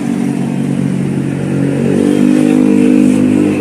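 A vehicle engine idles with a low rumbling drone, then revs up and grows louder partway through, heard close and steady without voices.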